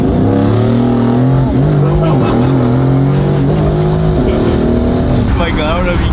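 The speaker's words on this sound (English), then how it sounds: "I don't know if you can hear this car" A car engine revs hard and loud up close, its pitch climbing and dropping through several sweeps, with people talking and shouting over the roar.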